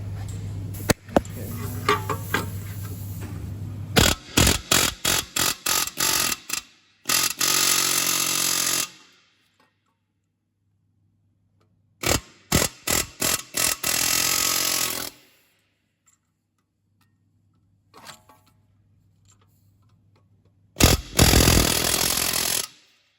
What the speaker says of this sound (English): we'll just give it a bit of a bash with the air hammer now, and that should crack it off